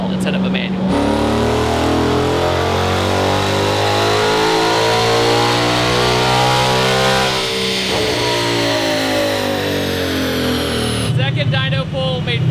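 A Ford Mustang S550 with an automatic transmission revs hard on a chassis dyno, its loud engine note climbing steadily through a long pull for about ten seconds before cutting off abruptly.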